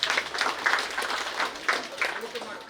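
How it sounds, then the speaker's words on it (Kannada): An audience at an evening cultural programme applauds with a dense, steady patter of clapping that lasts a few seconds, with some voices mixed in. "ಅವರಿಬ್ರು ಹಿರಿ ಜೀವಕ್ಕೆ ಒಂದು ದೊಡ್ಡ ಚಪ್ಪಾಳೆಯನ್ನ ಕೊಡೋಣ"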